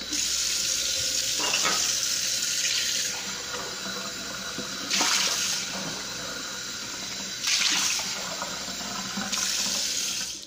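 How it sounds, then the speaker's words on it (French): Kitchen tap water pours into a glass in three separate surges, a bright close hiss that swells and drops back between runs. "Je vais me prendre un petit verre d'eau."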